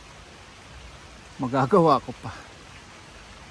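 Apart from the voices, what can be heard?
rain falling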